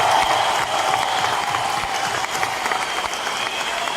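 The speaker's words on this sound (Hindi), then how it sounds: "एक जोरदार तालियां होना चाहिए सिद्धार्थ जी के लिए" An audience at a corporate training session bursts into loud, sustained applause, a dense wash of clapping lasting several seconds with a faint crowd murmur underneath.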